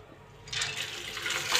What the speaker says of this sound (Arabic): حطيت ميه على النار